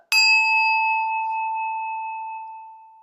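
A sound-healing chime is struck once, giving a bright metallic attack that settles into a pure, clear tone that rings on and slowly fades over several seconds in a quiet room.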